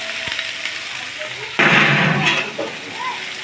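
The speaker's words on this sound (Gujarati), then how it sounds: "આ વઘાર તો એ ચણાનો છે." Chickpea tempering hits hot oil in a home kitchen with a sudden loud sizzling burst that lasts about a second and then fades to a softer crackle, with a voice heard faintly around it.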